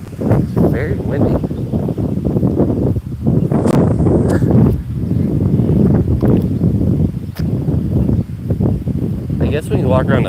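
Gusty wind buffets the microphone outdoors on a walk around a school field, a loud continuous rush and rumble with a few sharp thumps and rustles, no talking over it.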